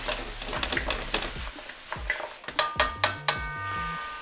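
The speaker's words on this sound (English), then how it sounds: "Stir it around" Sweet and sour ribs (tang cu paigu) being stirred in their sauce in a pan, with a quiet run of scraping and a series of sharp metal clinks of a utensil against the pan toward the end.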